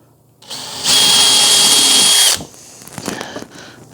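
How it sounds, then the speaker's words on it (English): A power drill pre-drilling screw holes in wood for pantry shelves whirs steadily for about a second and a half, loud and close, followed by quieter clicks and handling noise. "I like to pre-drill my holes"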